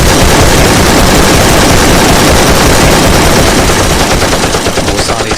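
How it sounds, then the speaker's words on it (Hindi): Loud, sustained machine gun fire from soldiers in a Marvel Zombies animation rattles in dense rapid bursts throughout, harsh and close. "सोल्जर्स फैंटास्टिक फोर के ऊपर गोलियां चलाने लगते हैं"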